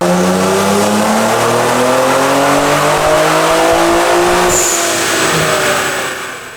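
A loud exhaust on a 650 wheel-horsepower twin-turbo Nissan Z on a dyno revs and holds high, droning steadily, with a rising pitch, then fades at the end.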